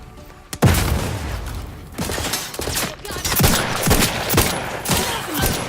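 Gunfire during combat in the video game The Outer Worlds 2, a loud, close volley of repeated shots in an irregular burst-like rhythm, each with a booming low thump, heard without speech.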